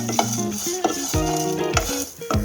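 Close scraping of a spoon stirring grated coconut roasting dry in a hot pan, with repeated clinks against the metal over a faint sizzle.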